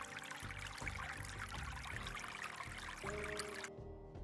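Water poured out to drink, a steady liquid stream running for about four seconds with a slight change in pitch near the end, close and fairly faint, with no talk over it.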